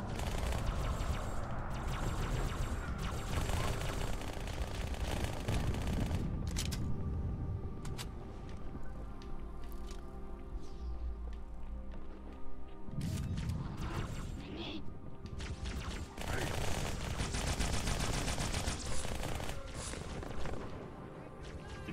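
Weapon fire in the Halo 2 co-op campaign, with dense sustained shooting and cannon blasts layered over game sounds and music, loud and continuous throughout.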